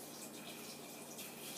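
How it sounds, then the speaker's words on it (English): Tap water running steadily into a pot of potatoes, a continuous broadband rush at close range with no talk over it. "I'm just going to fill this with some water"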